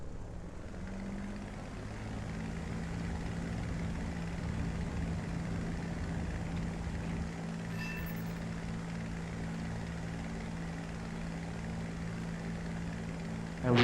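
Propeller aircraft engine in a flight simulator game throttling up for a takeoff roll, a steady loud droning hum that holds and builds slightly across the span, with no talk over it.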